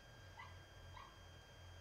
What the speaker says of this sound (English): as you can hear, there are puppies in the background